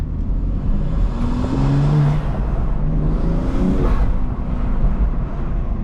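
A BMW M2 with an upgraded intake revs hard, its engine note climbing and falling through two strong, loud sweeps with deep rumble and intake roar, heard close and alone.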